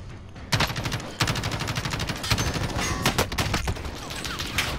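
Rapid turret gunfire in a shooter video game, sustained bursts of fast automatic shots with a few louder bangs mixed in, loud and close throughout.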